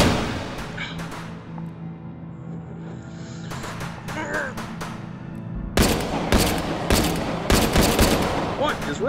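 An StG44 rifle is fired in the VR game H3VR, with scattered single shots at first and then a sharp, loud cluster of rapid cracks in the second half, over a low background hum.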